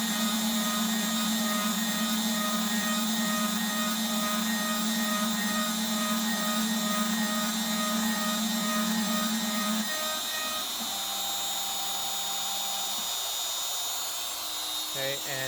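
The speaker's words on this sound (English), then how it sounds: "So I'm just going to turn my spindle back on, and we're going to keep resuming the program and let it cut the rest of the holes." A CNC spindle machines holes into a wooden guitar neck, giving a loud steady whine with a strong low hum and layered high tones. The pitch shifts near the end as the cut changes.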